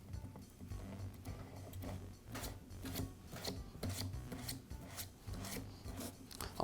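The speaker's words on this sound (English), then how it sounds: "it just simply threads back into the spindle" A hook and loop sanding pad is turned by hand onto the spindle of a Fein sander, giving quiet, close scraping and ratcheting rasps in short irregular bursts.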